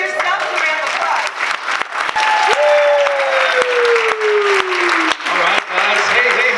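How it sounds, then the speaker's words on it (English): Event audience applauding loudly and steadily, dense clapping from a large crowd filling the whole stretch, with a sustained electronic tone sliding across the middle. "Give yourself a round of applause."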